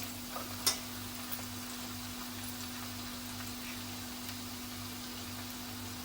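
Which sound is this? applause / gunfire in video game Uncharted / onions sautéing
onions sautéing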